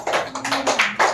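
Children clap together at a school parent-teacher meeting prize ceremony, a quick burst of uneven, overlapping hand claps lasting about a second, close and fairly loud with no talking.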